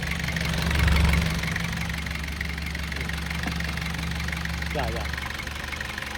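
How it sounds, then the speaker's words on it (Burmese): A KIA 11-seat van sits with its engine idling, a steady low hum and drone that runs unbroken at close range, with a brief voice heard over it. "အခုအင်ဂျင်လေးခဏလောက်ဖွင့်နေတယ်"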